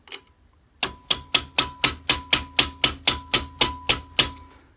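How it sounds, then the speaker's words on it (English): Fourteen sharp metallic hammer taps land in a steady, even rhythm, each ringing briefly, close and alone after a short silence. "So we're just gonna get it started with the hammer."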